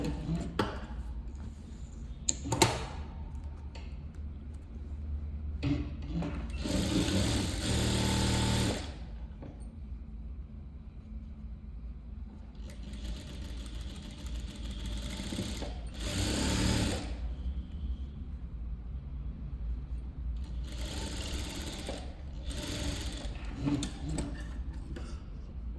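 A sewing machine stitches the side seam of a blouse in several short bursts of rapid, buzzing mechanical stitching, separated by quieter pauses with faint handling clicks.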